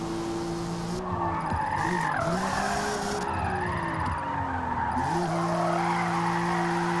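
Car tyres squeal steadily while drifting in Forza Motorsport, a loud wavering screech layered over a droning engine whose pitch dips and climbs through the slides.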